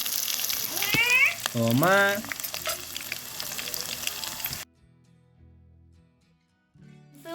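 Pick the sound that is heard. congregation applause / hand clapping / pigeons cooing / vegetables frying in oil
vegetables frying in oil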